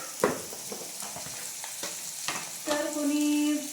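Tomatoes fry in a pan on a home stove, with soft sizzling and occasional scraping stirs that swell into a louder, steadier sizzle near the end.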